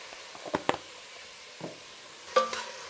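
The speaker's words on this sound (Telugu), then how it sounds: "ఇప్పుడు దీన్ని బాగా కలుపుకుందాము" A spoon stirring bisibelebath of rice, dal, carrot and peas in a pot, heard as a few sparse scrapes and clinks at close range with quiet gaps between them.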